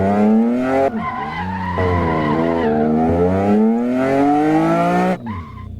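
A video game car spins out with the handbrake held, its tires letting out a loud, sustained screech that wavers and bends in pitch for about five seconds before cutting off abruptly.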